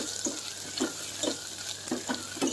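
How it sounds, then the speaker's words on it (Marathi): Crushed garlic and coconut are roasted and stirred in a pressure cooker for drumstick curry, with a steady sizzle punctuated by regular scraping strokes of the spoon, close and fairly quiet, with no talking. "लसूण खोबरं थोडंसं भाजल्यानंतर"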